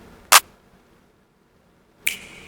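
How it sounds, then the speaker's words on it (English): Two sharp, isolated snap-clap hits from a beat sample, spaced well apart over near silence, each a bright crisp transient with the snap layered just ahead of the clap; the second hit rings out briefly. "I have a snap layered along with the clap, but I have it hitting a little earlier before the clap does"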